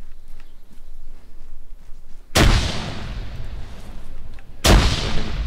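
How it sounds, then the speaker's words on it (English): Two frag grenade explosions in the military shooter ArmA 3, each a loud sudden blast followed by a decaying rumbling tail, about two seconds apart over quiet background ambience. "I'll throw a frag in there."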